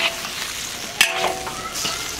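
Wok stir-frying of a salted egg and potato dish in a home kitchen: steady oil sizzle with scraping stirs and a sharp clatter of the spatula against the pan midway, fairly close.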